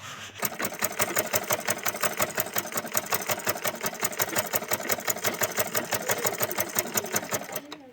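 A sewing machine stitches pleats into fabric with a fast, even mechanical rattle that runs steadily and close by for several seconds, then stops abruptly.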